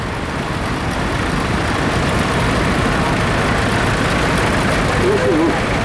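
A Massey Ferguson 165 tractor with a 4-cylinder Parsons engine runs steadily close by in an arena parade at an autumn agricultural show, a continuous low, even drone with no breaks.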